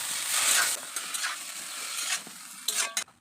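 Saag greens being stirred in a pan with salt and turmeric, a soft frying sizzle broken by bursts of scraping and rustling as the leaves are turned, with a few sharper utensil knocks near the end.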